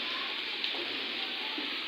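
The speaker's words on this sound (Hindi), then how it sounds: "ये आप अंदाज़ा लगा सकते हैं कि कितनी तेज़ बारिश है।" Heavy rain pours steadily onto waterlogged fields and flooded ground in Allahabad, Kasur, a dense, constant hiss close to the recorder with no pauses and no voices.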